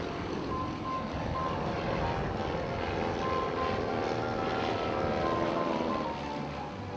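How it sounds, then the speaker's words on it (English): A big Stearman biplane's radial engine drones loudly and continuously during air show aerobatics at Shawfest in Sumter, passing right to left with a rough, steady roar. "Watch him now with the big stock steerman from right to left."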